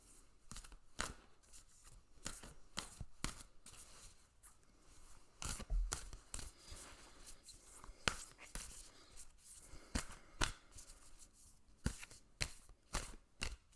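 Soft, irregular riffling and slapping of cards being shuffled and dropped, close and quiet, with brief pauses between bursts.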